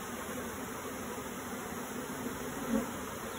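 A honeybee swarm buzzing around a hive during a swarm capture, a steady close droning hum with no break and no talking.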